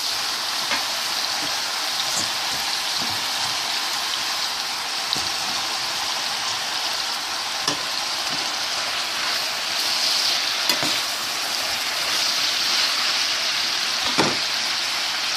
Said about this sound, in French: Là, je vais ajouter les épinards.